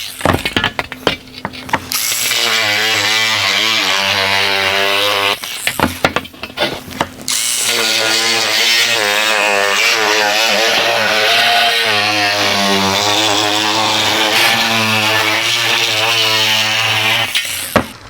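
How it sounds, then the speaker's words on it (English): A cordless power shear lubricated with WD-40 cuts aluminum sheet for a Jaguar E-Type bonnet, chattering loudly and raspily in long continuous runs, pausing briefly twice, close to the microphone. "We got the cordless shear. I lubed it up with WD-40."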